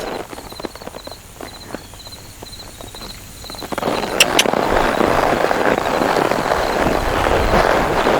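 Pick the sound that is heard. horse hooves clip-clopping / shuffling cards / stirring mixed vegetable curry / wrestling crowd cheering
horse hooves clip-clopping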